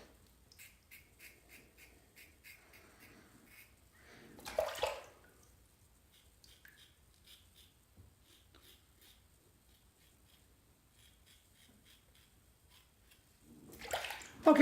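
A razor is rinsed under running water in two short splashing bursts, one early and one at the end, with quiet intervals of faint dripping and soft clicking between them.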